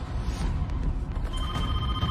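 A telephone bell rings steadily in the background over a broad, noisy bed of sound, with no one speaking.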